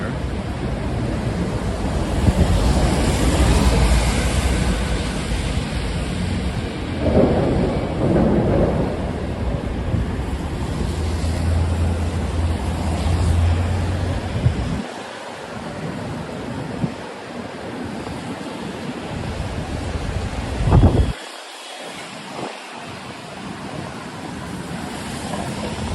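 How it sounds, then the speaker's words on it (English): Strong, gusty wind outdoors in New York City roars and buffets continuously across the whole stretch, loud and close with rumbling surges and a few abrupt drops and bursts. "since it's so crazy windy out, I think we should just call it here, because we're going to be battling the wind"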